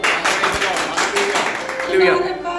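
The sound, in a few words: audience applause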